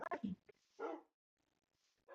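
Dogs in the video game Minecraft give a few short, faint barks and yips close together, then quiet whimpering sounds trail off, with no talk.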